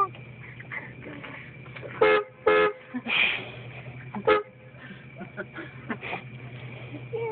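Several short horn toots honk in quick bursts, two close together and then one more, with people talking and laughing nearby between them.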